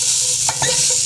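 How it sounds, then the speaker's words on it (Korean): Sliced bell pepper stir-fried in a frying pan, with a loud, steady sizzle and a few quick scraping stirs of a utensil against the pan. "파프리카를 한번 볶아 보겠습니다"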